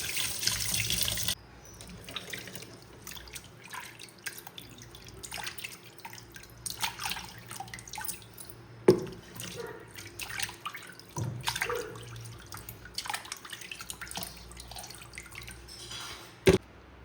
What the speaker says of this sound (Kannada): ಇನ್ನೊಂದು 3 ಸಲ ಇದನ್ನು ನೀರು ಹಾಕಿ